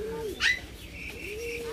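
A short pigeon coo near the start, a soft throaty call over low background murmur, with faint chirps and some voices around it.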